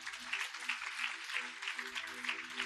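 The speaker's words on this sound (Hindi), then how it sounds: "सब बोले आमेन, जोर से ताली बजाए।" A church congregation clapping in a quiet, even rhythm, faint and distant over a low steady hum.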